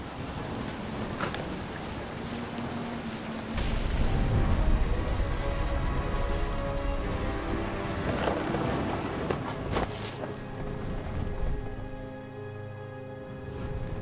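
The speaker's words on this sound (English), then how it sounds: "The thunder sounded much too close and full of angry power." Thunderstorm in the game What Remains of Edith Finch: steady rain hisses throughout while deep rumbles of close, powerful thunder swell and roll under it, with a few sharp cracks.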